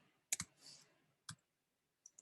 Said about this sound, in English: I want to click here.